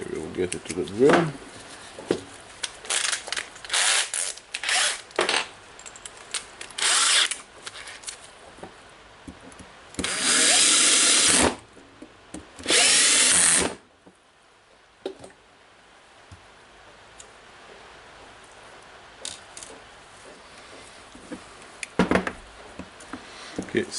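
A drill runs in two loud bursts, about a second and a half each, while a Makita HR2611FT rotary hammer is rebuilt, one plate tightened into place, among nearby handling clicks and taps.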